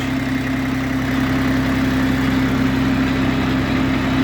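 A Jinma 244 tractor engine runs in first super-low creeper gear with a steady, close, unchanging mechanical drone and hum throughout.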